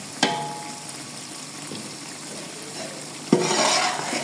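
Semolina for suji halwa is being dry-roasted in a pan and stirred with a spoon, giving a steady scraping, rustling sizzle that rises in two sharper bursts as the grains are pushed around. No one speaks.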